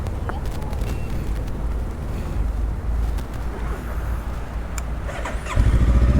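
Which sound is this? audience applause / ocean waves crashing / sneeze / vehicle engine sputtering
vehicle engine sputtering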